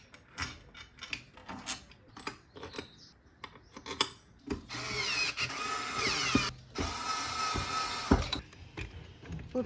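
Screws being driven into a Pulsar motorcycle gearbox casing produce short clicking ratchet-like bursts, then two longer whirring runs of a powered driver, close and fairly quiet.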